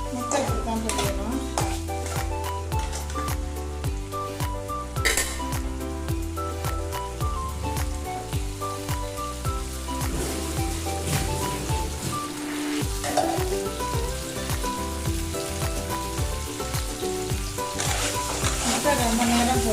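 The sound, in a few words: four eggs frying in chili paste in a pan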